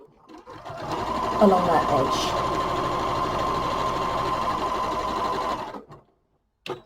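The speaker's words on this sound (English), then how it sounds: "I'm going to sew down this one side using a standard 1/4 inch as we normally do in patchwork and quilting" A sewing machine runs steadily for about five seconds, stitching a quarter-inch seam on a scrappy four-patch quilt block, then stops. A person talks over the even mechanical whir.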